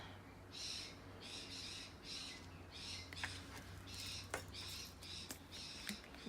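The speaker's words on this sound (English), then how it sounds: "I don't know if you can hear those birds outside." Birds call outside in bursts of harsh, screechy squawks, repeated several times with sharp clicks between, moderately distant over a low hum.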